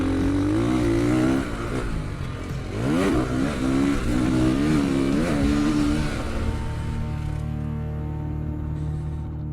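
A Ducati motocross bike without rider aids revs hard on a track, its engine note climbing and falling through several sharp surges before settling into a lower, steadier drone.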